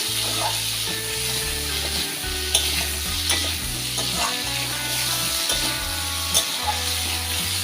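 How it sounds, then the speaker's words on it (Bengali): Pumpkin stems and shrimp stirred in a frying pan with a little salt over low gas, steady soft sizzling under repeated rhythmic scraping and clanking strokes of a spatula, with occasional sharp taps. "ঢাকনাটা খুলে একটু নেড়ে দিচ্ছি"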